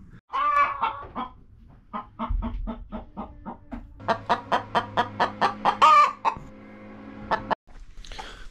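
Backyard hens cluck loudly after laying eggs, a close, rapid series of sharp rhythmic bursts and drawn-out squawks, the bird calling on its own without talk.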